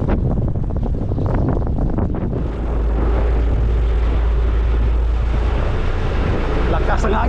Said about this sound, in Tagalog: kay sobrang lakas ng hangin